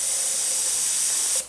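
A paint spray gun releases a steady, loud hiss of air as the trigger is held to purge it before spraying a bumper cover, cutting off abruptly near the end.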